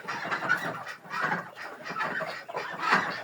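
Crested roosters and chickens on a small farm cluck and call in repeated bursts, close and lively, with no talk.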